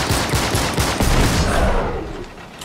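Rapid, sustained gunfire from a third-person shooter game, Uncharted 3, with bursts of automatic weapon fire overlapping into a dense, loud barrage that tapers slightly toward the end.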